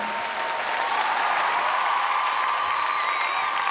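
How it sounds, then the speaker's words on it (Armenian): An audience at a live concert applauds steadily, a dense wash of clapping hands that holds at an even level throughout. "եկեք ծափարենք մեր բոլոր ընկերների համար"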